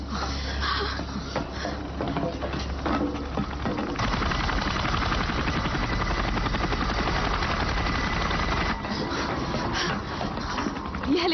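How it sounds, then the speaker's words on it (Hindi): Several combat helicopters fly overhead, making a loud, dense, continuous rotor roar with a chopping texture that swells and shifts over the span. "ये हेलीकॉप्टर्स की आवाज लगती है।"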